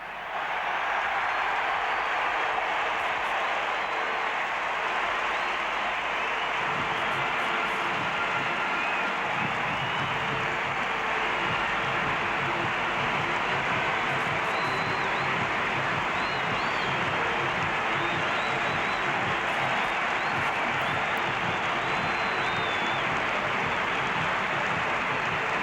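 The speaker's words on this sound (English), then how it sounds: "just listen to the crowd as Charlton leads out England" A huge football crowd roars steadily at Wembley as England walk out in the 1970s, a dense, continuous wash of cheering and noise heard from a distance that never lets up.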